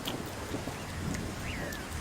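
Cartoon rain falling, a steady even hiss of drops that holds for the whole stretch at a low, soft level with no voices.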